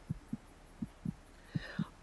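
A human heartbeat thumps faintly and steadily, about six soft, low beats over a quiet background hum.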